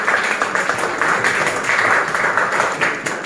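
A class applauding: steady, dense hand clapping from many people in a room, continuous and fairly loud throughout.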